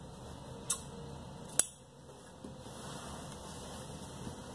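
Scissors snipping off extra fabric from a stitched umbrella frock, two sharp close clicks of the blades followed by faint quiet handling, no talking.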